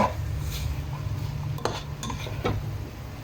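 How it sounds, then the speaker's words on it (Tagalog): Spoon scraping and clinking against a pan while radish and radish leaves are stirred, a few distinct metallic knocks over a steady low hum, close and moderately quiet. "Haluin lang natin."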